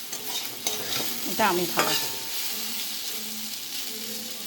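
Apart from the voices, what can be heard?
pumpkin frying with mustard seed and dried chili tempering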